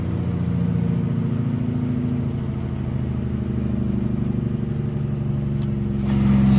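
A road train truck engine hauling a load, heard from inside the cab as a loud, steady low drone that holds through a gear change and swells slightly near the end.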